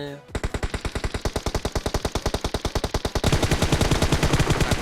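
Gunfire between squads in PUBG Mobile: rapid automatic bursts at a fast, even rate, loud and punchy, then thickening into a denser, overlapping barrage near the end.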